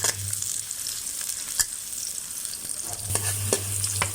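Chili and garlic are stir-fried in a wok until golden for a freshwater snail dish. A close, steady sizzle is broken by a few scraping stirs and clacks of the spatula.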